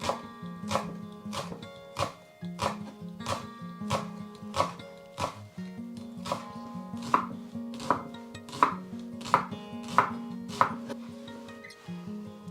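Knife chopping ginger into very thin slices on a cutting board, a steady run of crisp, evenly spaced chops, close and clear with no talk.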